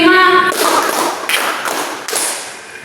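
Schoolchildren in a classroom group-guidance session clap in unison, giving a few sharp, loud bursts at a steady counted rhythm with a brief voice at the start.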